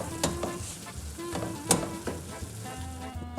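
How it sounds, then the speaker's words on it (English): Meat and peas fry together in a pan, a soft, close sizzle broken by sharp stirring clinks and scrapes, with low hums in the background. "And let it to fry for a little bit together."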